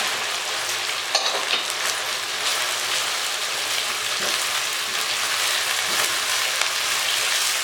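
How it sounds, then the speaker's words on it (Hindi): Chopped onion and chicken fry together in a karahi for a white chicken karahi with cream, giving a steady, close, dense sizzle with occasional spatters and no talking. "प्याज भी हमारा इसके साथ ही फ्राई हो जाएगा।"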